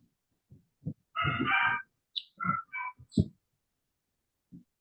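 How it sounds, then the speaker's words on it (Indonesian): Short bird calls ring out in bursts with gaps of silence between them, including one longer squawking phrase, close and fairly loud in a quiet room, with no talking. "Barusan saya dengar burung sih."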